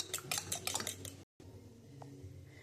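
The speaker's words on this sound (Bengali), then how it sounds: "এটা দইটাকে আমি একটু সুন্দর করে ফেটিয়ে দিচ্ছি।" Yogurt whisked in a bowl, a quick run of light clinking taps of utensil on dish, then a brief gap and a quieter stretch with a faint single clink, close and without talk.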